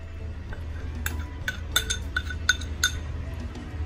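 Utensil stirring corn flour into orange juice in a bowl, a few light scattered clinks and taps of spoon against the vessel over a low background hum, no talking.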